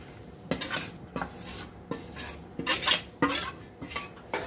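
Jaggery being stirred into soft cooked rava lapsi in a pot, with a spoon scraping and clinking against the metal in uneven strokes about every half second, close and fairly quiet.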